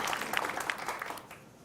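Audience applause at a televised Jakarta education debate, a soft, steady patter of many hands that fades toward the end, heard at a distance and fairly quiet.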